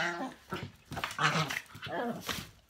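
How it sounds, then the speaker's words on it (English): Dogs yip, whimper and growl in a restless run of short, close vocal bursts lasting a few seconds, with no pause between outbursts. "The dogs have struck again."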